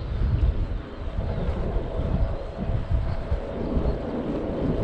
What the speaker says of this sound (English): why does it blow a lot, the wind?